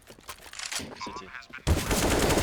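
Gunfire during a Counter-Strike match between NAVI and Heroic, a dense burst of rapid shots that suddenly gets louder midway, with a voice talking over it.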